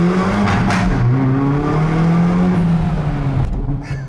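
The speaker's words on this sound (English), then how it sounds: "I've got the exhaust in its sportiest setting, tunnel ahead of me, window down" A 2018 Hyundai i30 N Performance with its 2-litre turbo engine and sports exhaust in the sportiest setting revs hard inside a tunnel, heard with the window down: a loud, close, sustained engine roar that rises and falls in pitch.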